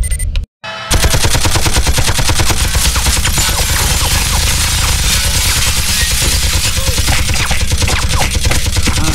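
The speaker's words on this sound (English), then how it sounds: "Security guns are currently active." Security guns fire in a Project IGI cutscene: a loud, continuous rapid burst of automatic gunfire after a brief silent gap near the start, unbroken to the end.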